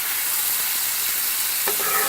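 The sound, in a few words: pan sizzling on high heat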